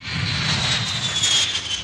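A special flight's aircraft engine roars steadily on departure from Nagpur airport, a loud, continuous broadband drone with a high whine, close and unbroken throughout.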